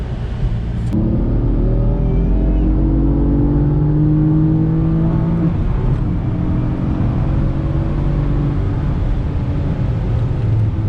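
A 2015 BMW M3 F80 pulls hard at full throttle, its engine note climbing steadily and loudly from close inside the cabin, with a short shift break early on.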